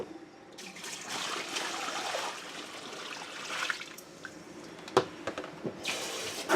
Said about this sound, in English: We're going to dump out the water.